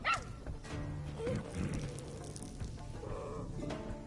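Cartoonish dog yips, short barks and whimpers from the video game Grimbreaker: The Witcher Tales, close and fairly loud over a busy layer of game music and effects, with a brief whine partway through.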